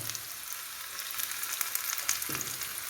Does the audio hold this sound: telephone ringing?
no